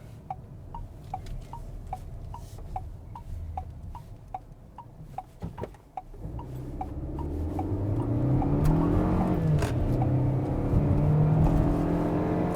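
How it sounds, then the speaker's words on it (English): A KGM Actyon SUV engine revs as the vehicle accelerates, a steady drone that swells into a louder rising roar in the second half, with a faint regular ticking running through the first part. "It's got a revvy engine, doesn't it?"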